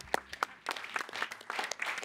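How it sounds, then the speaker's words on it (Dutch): Scattered applause for the three winners at the Limburg pop music awards 2020, moderate and uneven claps from an indoor crowd lasting about two seconds. "mag ik nog 1 keer een applaus voor deze mensen die heel belangrijk zijn"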